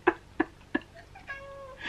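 A pet cat meows indoors in three short, evenly spaced calls, followed by a higher squeaky, drawn-out sound like a dog squeak toy, all close and fairly quiet.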